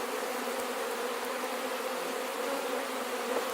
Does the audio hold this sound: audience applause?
no